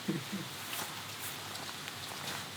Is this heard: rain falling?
yes